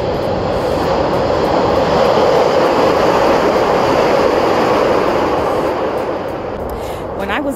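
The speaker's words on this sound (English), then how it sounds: "So you are about to hear the train driving by." Loud, continuous rumble of a train passing close by, a broad roaring wash that eases slightly toward the end.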